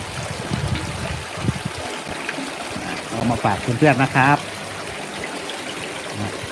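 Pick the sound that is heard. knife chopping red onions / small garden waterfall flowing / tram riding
small garden waterfall flowing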